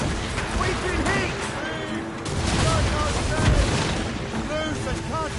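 Ship cannons boom in a naval battle from Assassin's Creed, repeated blasts and gunfire over a dense, loud battle din with shouted voices throughout.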